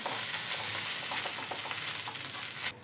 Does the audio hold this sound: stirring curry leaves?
yes